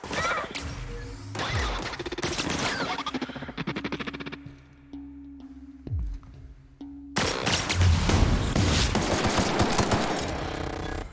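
Gunfire in the video game The Outer Worlds, with rapid bursts of shots and crashing impacts. There is a brief quieter gap in the middle, then heavy sustained firing. No one talks.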